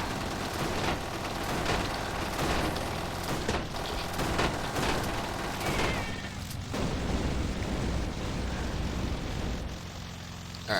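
Dense, continuous turret gunfire and booming impacts in the vehicular combat video game Death Skid Marks, a loud sustained barrage with no gaps and no talking.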